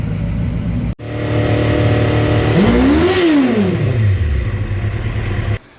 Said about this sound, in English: You're looking at 900 horsepower. Warm it up before we go out.